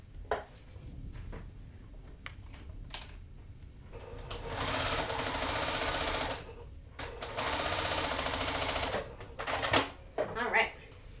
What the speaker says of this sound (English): you can sew that down